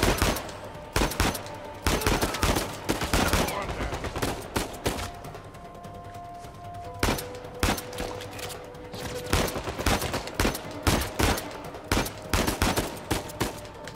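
Loud, sustained gunfire from the video game Uncharted 4, with rapid machine-gun bursts and single shots cracking almost continuously and only brief lulls.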